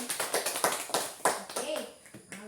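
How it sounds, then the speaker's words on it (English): A classroom of children claps in quick, uneven bursts for about two seconds, close by and fairly soft. "let's give a clap to Suzanne"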